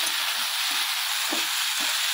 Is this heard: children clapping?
no